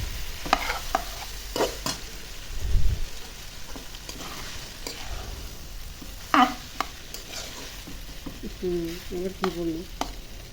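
Vegetable noodles and egg being fried and stirred in a pan, with soft sizzling throughout and intermittent scraping and clacking of the spatula, one louder knock near the middle; a brief voice speaks toward the end.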